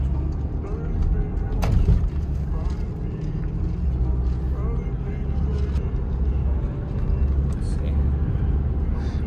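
A new Porsche cruises on a highway, giving a steady loud engine and road rumble with continuous wind and tyre noise throughout, heard from inside the car.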